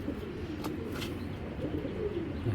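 Pigeons cooing in a loft that holds silver-necked and fancy breeds, a steady low burbling coo running throughout at moderate level with a few faint chirps above it.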